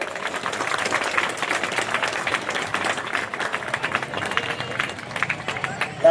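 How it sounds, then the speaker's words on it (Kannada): A crowd at an organic farming fair held at a rural monastery claps loudly and continuously, a dense, steady patter of many hands close by, with voices mixed in. "ಎಲ್ಲರೂ ಜೋರಾಗಿ ಚಪ್ಪಾಳೆ ತಟ್ಟಬೇಕು"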